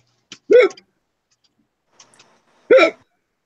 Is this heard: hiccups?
yes